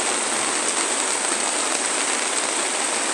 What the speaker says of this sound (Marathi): एवढं जोरात मोठा पाऊस आहे की आपल्याला चालायला पण होत नाही.